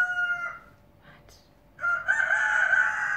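A rooster crows loudly and close by, one long cock-a-doodle-doo rising after a brief pause, with a short earlier call before it.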